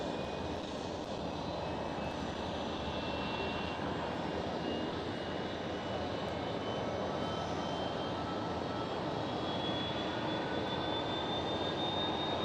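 A TAROM Boeing 737-700 jet in a retro 66th-anniversary livery at Amsterdam Schiphol produces a loud, sustained engine roar with a rising high whine, continuous and close for the whole stretch, with no talking.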